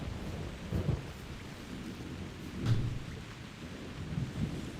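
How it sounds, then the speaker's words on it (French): Thunderstorm with rain in the hunting game The Hunter Primal: a steady wash of rainfall with low thunder rumbles rolling in three times, the middle one strongest. "J'aime pas les orages."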